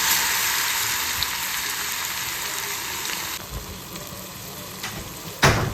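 Marinated chicken frying in hot oil gives a continuous, even sizzle and crackle with a few light stirring clicks and a sharp clatter near the end.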